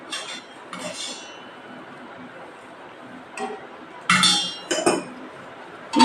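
A metal dosa pan lid is handled in a home kitchen, giving several bright clinks and clanks near the end, with faint voices and soft rustling in between.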